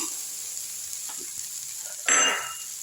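Chopped onions and masala sautéing lightly in a pan for wheat chapati kothu parotta, a soft faint sizzle that swells into a louder burst of frying and stirring near the end, with no one talking.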